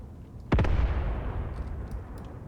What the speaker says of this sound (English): I hope that the artillery strike will finish before the units start to move.